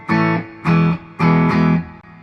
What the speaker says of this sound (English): It's a plate reverb.